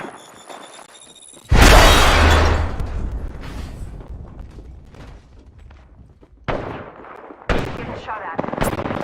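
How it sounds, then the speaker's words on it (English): Gunfire in the Apex Legends video game: a loud burst of rapid shots followed by several shorter volleys, close and dense with sharp impacts, set against game sounds and no clear talking. "Getting shot at. Opening fire."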